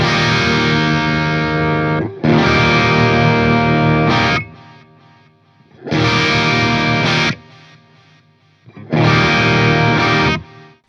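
An electric guitar played through a Synergy Syn20IR amp with the treble turned all the way down gives loud distorted chords in three sustained bursts, with short quiet gaps between them.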